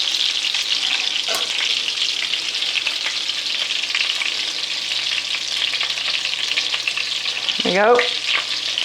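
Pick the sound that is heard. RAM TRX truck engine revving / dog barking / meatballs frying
meatballs frying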